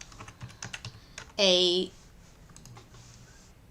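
Computer keyboard typing, a run of quick light keystrokes near the start and scattered taps afterward, with a brief voiced sound in between; fairly close and moderately loud.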